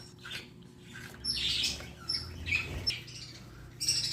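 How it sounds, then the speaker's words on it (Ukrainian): Faint birds squawk and chirp intermittently in the background, with short scattered calls. "Вибачайте, що птиці заважають, але нічого не зробиш."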